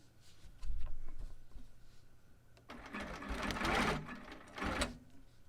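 A longarm quilting machine stitches binding onto a quilt in bursts of rapid mechanical needle chatter, a short run near the start and louder, longer runs later, with quieter motor hum between.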